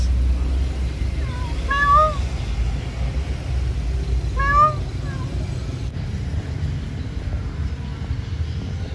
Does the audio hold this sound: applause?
no